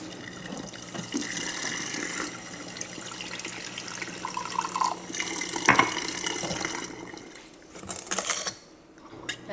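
Water poured into a butter dish on a kitchen countertop, a thin splashing trickle with gurgles and a few clinks from the dish, fairly quiet and close.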